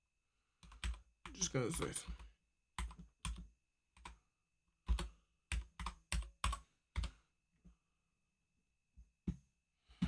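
Typing on a computer keyboard, bursts of quick key clicks and a few heavier keystrokes in a quiet room, with someone speaking briefly partway through.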